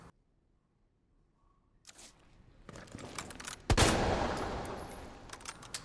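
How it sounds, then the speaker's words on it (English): After near silence, scattered clicks and shuffles build into a single loud magnum gunshot in Resident Evil 2, a sharp blast followed by a lingering echoing tail. "Just wasted magnum shot."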